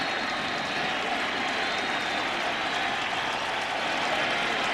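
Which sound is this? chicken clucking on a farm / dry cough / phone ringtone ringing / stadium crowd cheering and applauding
stadium crowd cheering and applauding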